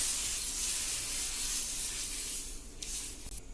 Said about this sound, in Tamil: இப்போ தோசைக்கல் சூடாயிடுச்சு. நம்ம பெசரட்டு மாவை ஊற்றி தோசை சுட்டுக்கலாம்.